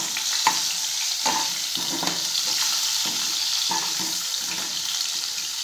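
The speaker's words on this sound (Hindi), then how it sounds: "अब एक बार सब्जी को पलट देते हैं।" Stuffed baby onion curry sizzles and fries in a pan as it is flipped and stirred, a steady close hiss broken by repeated soft scrapes and clicks of a spoon against the pan.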